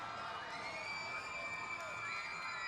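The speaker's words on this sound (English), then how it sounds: "That screaming you're hearing is, we just put our picture up on the video board." A stadium crowd at a women's soccer match screams and cheers during a t-shirt toss, a dense, sustained high-pitched roar of many voices from the stands, steady and fairly distant throughout.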